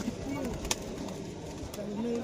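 Pigeons at a bird market give soft, low cooing calls in short drawn-out phrases, with market chatter and a few sharp knocks around them.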